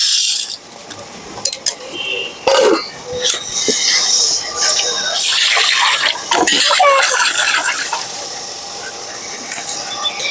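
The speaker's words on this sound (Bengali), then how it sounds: "এবার আমি চালগুলো ধুয়ে নেবো" Rice is washed by hand in water in a vessel, making loud, close sloshing and swirling with occasional clinks against the container, continuous for several seconds amid some indistinct background noise.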